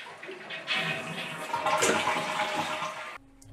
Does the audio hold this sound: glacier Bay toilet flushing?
yes